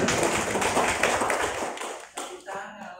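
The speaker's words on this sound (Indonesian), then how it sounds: "Tepuk tangan lagi." An audience at an Islamic moderation literacy workshop breaks into dense, lively applause that fades out after about two seconds, leaving a few scattered claps.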